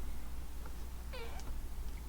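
A stray cat rescued from the street gives a single short meow, faint and somewhat distant, against a low steady background hum inside a van.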